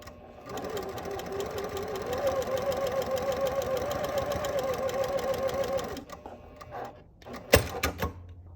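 Sewing machine stitching quilt fabric on a bias angle runs as a steady, close mechanical whir for about six seconds, then stops, followed by a few sharp handling clicks and knocks.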